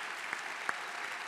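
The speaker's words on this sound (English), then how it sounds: "Please give them really a round of applause because they are the ones that do deserve it." A banquet audience applauds during a chef's speech. The clapping forms a soft, distant, even patter with a couple of sharper claps standing out, and no voices are heard.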